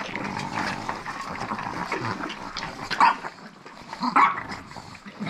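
Several chihuahuas bark and growl over raw meat, a close, messy mix of snarls, snorts and short barks with two louder bursts near the end.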